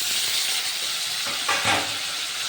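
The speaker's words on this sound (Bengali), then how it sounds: "এবার ঢাকা দিয়ে দিয়ে আলুটাকে ভালোভাবে ভেজে নেব" Potatoes fry in a covered pan with a continuous hissing sizzle heard up close, swelling briefly with a couple of louder spits partway through. No one speaks.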